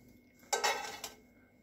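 Dishes clatter briefly in a kitchen sink, a short clink and scrape of pots and cutlery near the mic, set against a low steady hum.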